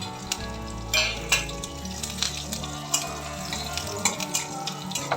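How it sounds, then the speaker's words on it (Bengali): Tempering spices with green chillies and curry leaves frying on low heat, a close continuous sizzle with frequent stirring scrapes and light taps of a spoon against the pan, no voices. "লো হিটে এটা ফোড়নটা ভেজে নেব সব শেষে দেবো অল্প কারি পাতা"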